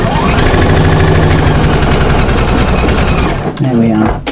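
A sewing machine runs a continuous stitching row across a pretty Fantasia cushion, a loud rapid mechanical whir that stops near the end, followed by a brief voice.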